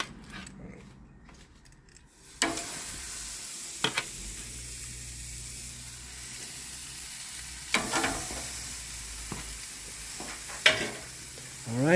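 Steak searing in a hot pan with a wireless meat thermometer probe, cooked toward medium rare: a steady sizzle starts as the meat goes in, with a few sharp clatters and scrapes over the continuous frying hiss.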